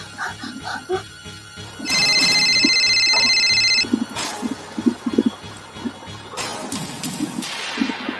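A telephone rings with an incoming call, giving about two seconds of loud, steady electronic trilling tones amid other clattering and thumping noises nearby.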